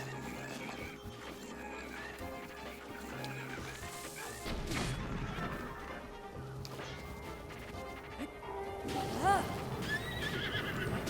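A horse neighs loudly and shrilly in the video game Breath of the Wild, amid game-like clatter and crashing impacts, with a low steady hum underneath.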